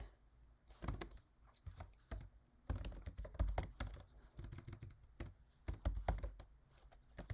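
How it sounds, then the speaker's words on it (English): Irregular bursts of computer keyboard typing, fairly close and moderately loud, with clustered keystrokes and short pauses during a spreadsheet statistics session. "Sorry about the typing."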